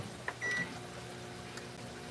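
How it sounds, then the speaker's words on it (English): A microwave oven heats a cup of coffee with a low, steady hum, and a single short electronic beep sounds near the start. "I heat mine up in the microwave."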